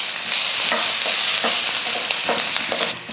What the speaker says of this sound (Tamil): இது எல்லாம் சேர்த்து நல்லா வறுத்துக்கலாம்.